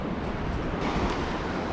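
Ocean surf breaks on a beach at a shore fishing spot as a steady, loud wash of roaring water with wind buffeting the microphone and no voices.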